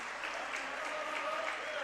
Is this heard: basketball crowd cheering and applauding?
yes